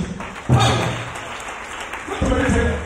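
A congregation applauds for Jesus in brief rising bursts of clapping, the second swell coming near the end, with a voice speaking over it.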